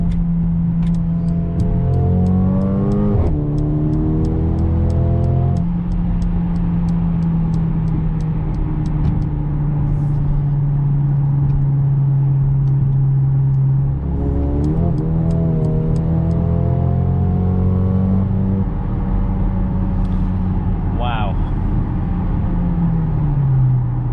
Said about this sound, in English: Upshifting early, you could hear a ton of pops and crackles from this exhaust.